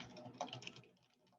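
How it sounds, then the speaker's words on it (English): Quick burst of typing on a computer keyboard, close soft key clicks in a rapid run that tapers off, no talk. "I'm going to type it in the chat"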